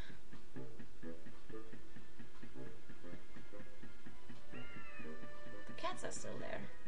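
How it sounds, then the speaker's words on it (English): Cats meowing in the video game MediEvil, several distinct meows over a steady ticking game soundscape, with a higher drawn-out cry near the end and someone talking along. "The cats are still there."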